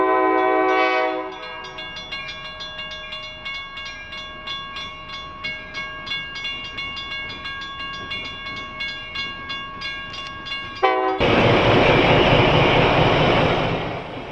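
A train on rails moving historic Allentown & Auburn RS-1 diesel locomotive 57 sounds a long sustained horn, then rolls with rhythmic clacking wheels over rail joints before a louder burst of horn and roaring engine noise near the end.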